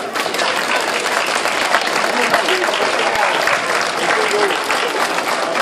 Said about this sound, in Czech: A my jsme jim poděkovali potleskem